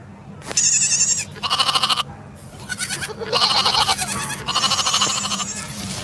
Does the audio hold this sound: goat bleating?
yes